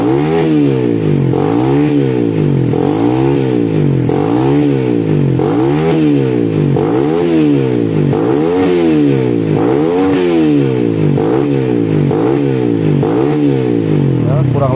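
A Suzuki Satria FU motorcycle fitted with an SKR Racing stock-style bored-out exhaust, its dented header left unrepaired, revs repeatedly in steady, rhythmic blips close by, loud and continuous, with someone talking over the engine.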